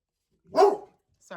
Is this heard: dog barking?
yes